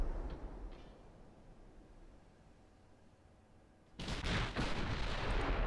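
Warship guns firing in the naval battle game Ultimate Admiral Dreadnoughts: a low rumbling backdrop gives way to a sudden loud, broadband burst of heavy gunfire that keeps booming and roaring without a break, with no voices.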